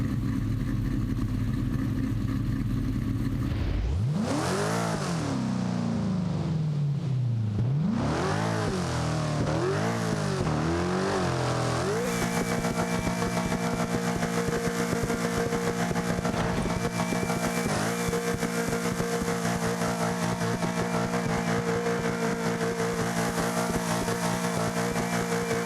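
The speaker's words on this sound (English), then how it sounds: "Listen to that supercharger whine." Supercharged car engine in a Sega Dreamcast racing game, revving through rising and falling sweeps before settling into a loud, sustained high whine with a steady engine drone beneath, no talking.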